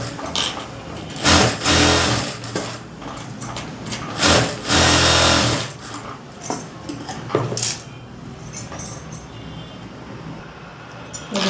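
A sewing machine stitches a border along the edge of a blouse, running in loud bursts of rapid whirring that stop and start, with quieter handling between runs and no talk.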